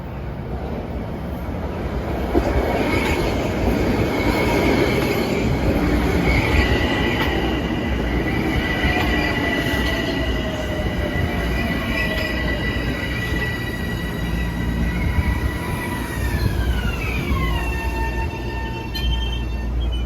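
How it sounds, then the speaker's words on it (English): Metro North train 1362 from Grand Central to Old Greenwich slows for a stop with a steady rumble and clatter, as high wheel or brake squeals rise and then sweep downward near the end. "This is train 1362 from Grand Central to Old Greenwich."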